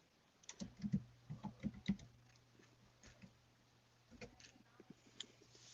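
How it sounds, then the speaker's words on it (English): Typing on a computer keyboard, a quick run of close, clicky keystrokes, then a pause and a few scattered taps, faint against a low steady hum. "I mean, you're typing."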